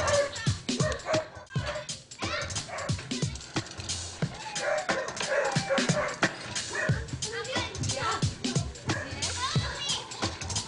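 Several dogs bark repeatedly at the neighbors, with sharp yips and whimpers mixed in, up close and loud, while children shout and play nearby.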